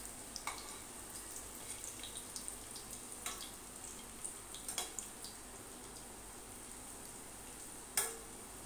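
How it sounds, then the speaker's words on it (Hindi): Food shallow-frying in ghee over a slow flame gives a soft, steady sizzle with scattered small pops and crackles, one sharper spit near the end. "मैं शैलो फ्राई कर रही हूँ।"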